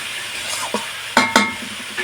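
Cabbage curry being stirred in a pan after sugar goes in: soft frying sizzle under a few sharp spoon scrapes and clacks against the metal, close by, with no voices.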